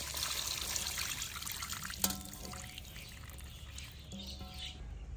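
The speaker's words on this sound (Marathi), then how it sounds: "गवार आपली धुवून झालेली आहे। आता आपण ती चाळणीत काढून घेऊ।" Washed cluster beans are tipped into a sieve in a home kitchen, giving a soft continuous trickle and pour of water with a small clatter partway through, close and fairly quiet.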